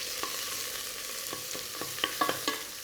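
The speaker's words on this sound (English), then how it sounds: "I'm actually going to get these prawn heads cooking. A little bit of oil, not too much." Prawn heads fry in a small amount of oil for tom yum soup, a soft steady sizzle broken by a few sharp spatula taps and pops near the end, no voices.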